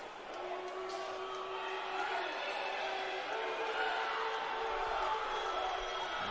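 Crowd at a college basketball game reacts to a foul call, a steady murmur swelling into displeased noise, heard over a commentator's voice.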